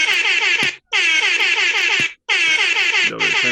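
Loud, blaring air horn blasts in three long bursts separated by brief gaps, the last one breaking into a shorter honk.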